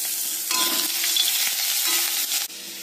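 Chopped ginger sizzles in hot oil with whole cardamom and cinnamon, a steady close frying hiss broken by a few stirring scrapes of the spoon in the pan; no voices.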